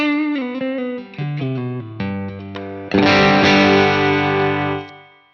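Electric guitar on the neck pickup through an amp with a light drive pedal, playing a few clean-ish single notes and short phrases before a fuller strummed chord that rings out and decays.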